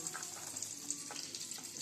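Steady sizzling of potatoes being stir-fried in a pan, with occasional scraping and stirring noises, close and continuous with no voices.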